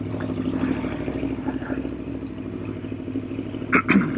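An Aprilia motorcycle engine pulls away in gear on a sunny California ride, a steady mid-pitched drone that swells slightly, with a brief clattering burst near the end and no voices.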